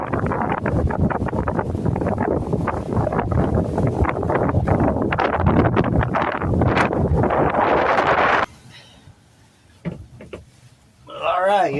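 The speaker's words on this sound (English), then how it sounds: "That wind is freaking brutal out there." Strong gusts buffet a truck camp in Texas on a chilly day, roaring and rustling loudly against the microphone for several seconds before cutting to a quieter interior, then surging again with a person talking.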